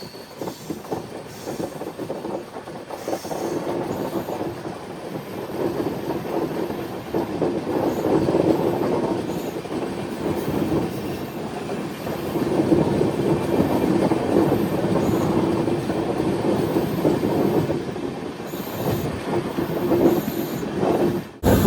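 Tirupati Express LHB passenger train rounding the sharp Kadiyam curve, a steady loud rumble of wheels on rail with rhythmic clatter and faint intermittent squeal, swelling and easing over about twenty seconds with no voices.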